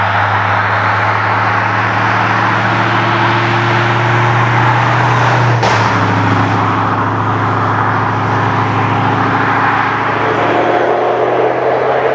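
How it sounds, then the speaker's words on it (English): A Ford Transit Custom RSV Sport van's engine drones steadily and loudly from inside the cabin, with a brief shift in tone midway. The low rumble carries on without any voices. "I love that V8 burble."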